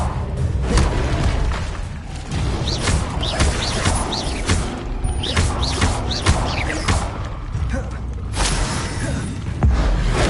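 Fiery spell effects in Hogwarts Legacy crackle and whoosh in a dense, continuous roar of bursts and impacts, loud and busy throughout with scattered sharp crashes.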